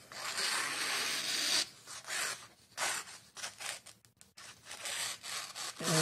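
A sharp knife with an olive wood handle, a PUMA IP Alicante, slices through a sheet of paper in a few close, scratchy rasping strokes separated by short pauses.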